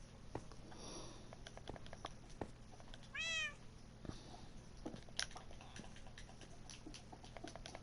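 A short, rising-and-falling cat meow in a blocky video game, heard once amid a steady stream of small clicks and tapping noises.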